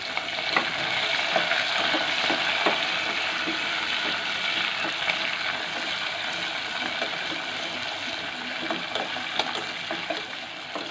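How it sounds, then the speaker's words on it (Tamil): Shallots and green chilies sautéing in a pan for a chickpea curry, a continuous moderate sizzle with frequent spatula scrapes and clicks against the pan, close and unbroken, no voices. "வெங்காயம் நல்லா வதங்கிருக்கு"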